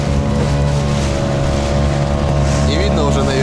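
Motorboat engine droning on a lake at dusk during an autumn fishing trip, a loud steady low hum with wind buffeting the microphone and brief murmured talk late on.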